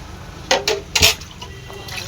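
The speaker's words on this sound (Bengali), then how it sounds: "বেশি করে জল দিয়ে আলুটাকে ভালো করে ধুয়ে নিই।" Potatoes for aloo dum are washed in water in a bowl, with a few close knocks, splashes and clatters in quick succession and faint voices underneath.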